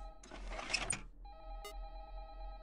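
A telephone rings in the horror game Five Nights at Candy's 2, a loud burst of noisy rattle followed by a sustained electronic ring tone with a brief bright tick partway through, heard without talking.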